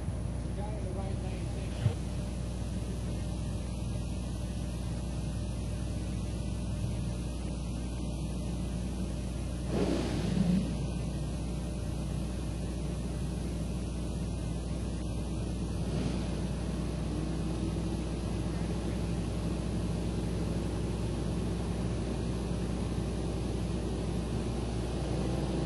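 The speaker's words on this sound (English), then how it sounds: "Good wheel stand for Junior Hidalgo." Drag racing cars at a bracket race on the strip, a steady distant engine roar with a couple of surges as cars launch, under an announcer's voice over a continuous low rumble.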